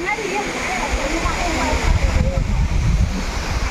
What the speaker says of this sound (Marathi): खूप प्रसिद्ध धबधबा आहे